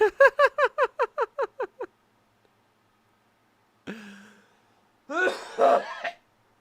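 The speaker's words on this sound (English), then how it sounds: "I think I have smoker's cough" A rapid series of about ten short, evenly spaced vocal bursts, then silence, followed by a throat clearing and a rough cough, close and clear.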